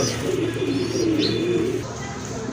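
Pigeons cooing nearby at a pigeon market, a low repeated warble over a busy background, with faint chirps mixed in.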